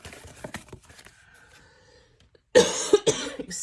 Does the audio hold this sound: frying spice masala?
no